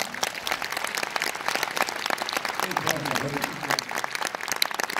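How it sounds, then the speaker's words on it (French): Audience applause at a film premiere of Love Addict in Orléans, a steady mass of clapping running through the whole stretch at moderate level, with voices in the room faintly beneath it. "Faut l'applaudir très fort."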